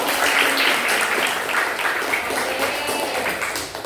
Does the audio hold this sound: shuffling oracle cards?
no